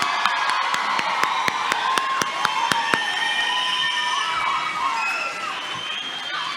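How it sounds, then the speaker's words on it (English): Crowd at a school graduation ceremony applauding and cheering, dense clapping with whoops and shouts, sharp claps standing out, steady and fairly loud throughout. "Let's get another round of applause."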